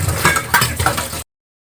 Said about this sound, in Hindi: अब इसके अंदर जो भी है हम अपने बर्तन धो के रखते रहेंगे